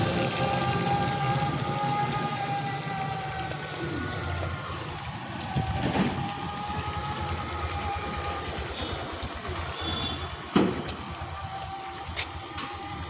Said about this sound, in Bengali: এই বৃষ্টিটা একটু আগে থামলো, ওই জন্য বেরোতে পারলাম না, তো বেরোনো যাচ্ছিল না, তাও হালকা হালকা পড়ছে।